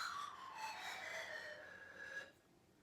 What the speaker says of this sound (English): A soft sound might come from this pan flute.